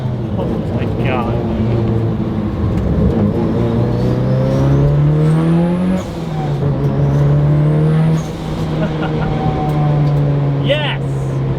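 A Mitsubishi Evo drift car on R888 tires revs and accelerates hard and close, its engine pitch climbing through several gear pulls with brief dips between them, while a person talks and whoops excitedly over the noise.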